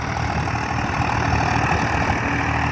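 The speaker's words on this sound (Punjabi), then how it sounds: "ਬੜਾ ਵਧੀਆ ਟਰੈਕਟਰ ਹੈ ਕਿਸਾਨ ਵੀਰੋ ਮੀਡੀਅਮ ਜਿਹਾ ਟਰੈਕਟਰ ਹੈ" A 50 HP medium-sized tractor runs at a steady idle in a farm setting, a loud continuous engine rumble with no voices.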